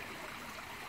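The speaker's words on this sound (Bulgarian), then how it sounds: "Сега, както виждате, там има едно малко водопадче." Circulating water spills over a small garden pond waterfall, a steady, continuous trickling splash heard close and alone without any talk.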